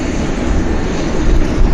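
Heavy Air Canada jet airliners at Vancouver airport, with a Dreamliner nearby, produce a loud, close, continuous engine roar with deep rumble and broadband noise and no voices.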